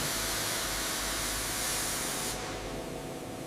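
Heavy-duty degreaser foam sprays in a steady, loud, broadband hiss onto a rusty, mud-caked MAZ-538 military truck, continuous throughout with a slight change in tone near the end.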